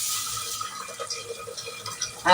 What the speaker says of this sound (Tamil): புளி காய்ச்ச தண்ணியா ஊத்துறேன்.